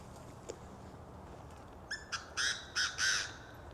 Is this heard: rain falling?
no